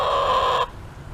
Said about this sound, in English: chickens behind us.